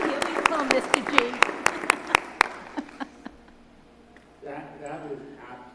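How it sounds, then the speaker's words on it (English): Scattered, sharp hand claps from an audience at a school district event honoring three students, a dozen or so distinct claps spread over a few seconds and fading out, followed by a voice talking. "can we give them another round of applause"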